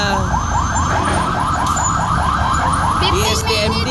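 Wailing ambulance siren arriving at a scene in Caloocan after an explosion, its repeating rising sweeps loud and close throughout, steady traffic rumble underneath.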